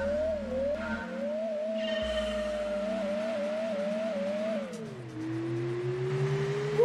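A Mazda Demio racing in Gran Turismo 2 gives off a thin, whiny synthesized engine note that rises and falls with revs, steady and fairly quiet, with no talking.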